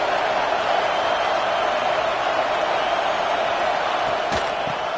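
Football stadium crowd at a college football game, a dense, loud, steady roar of many voices filling the whole stretch, with a brief sharp knock near the end.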